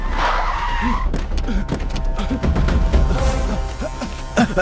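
A car skids to a stop in a tense action-thriller movie scene, with a short squealing slide at the start that fades into a rumbling, noisy mix of effects and background sound.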